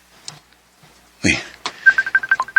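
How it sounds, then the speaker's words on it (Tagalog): A telephone rings with an incoming call. After a brief rustle, a quick run of short, evenly pulsed electronic ringtone beeps sounds close by. "ang mama ni Mitch nanawag"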